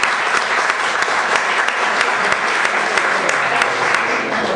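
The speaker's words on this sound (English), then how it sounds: "So let's give them a round of applause too" An event audience breaks into a steady round of applause, many hands clapping densely and evenly at close range, holding at a constant level from start to finish.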